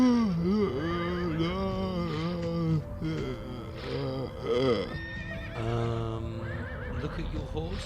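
A horse neighs in the adventure game Limbo of the Lost, with drawn-out, wavering whinnies that rise and fall over several seconds, loud and close and filling the whole stretch without pause.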